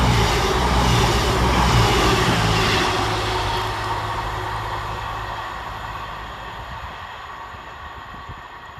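Avanti West Coast unit 221111 on the Carlisle to Glasgow Central run passes through Pollokshaws West station, a steady loud rumble and rush that slowly fades over several seconds.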